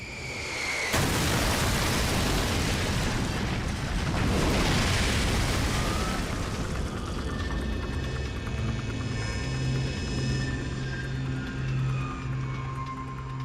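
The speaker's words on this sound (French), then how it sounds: "Il s'est écrasé dans une épouvantable explosion." Pan Am Flight 103, a Boeing 747, crashes into Lockerbie in a huge explosion, erupting as a sudden loud broadband blast that rolls into a long, sustained roar with a low rumbling tail and no talking.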